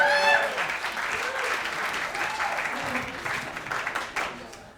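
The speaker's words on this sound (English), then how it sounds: "Let's give her a nice, big, warm round of applause" Wedding guests at a reception applaud for the maid of honor with a warm, steady round of clapping, and a voice is heard alongside it.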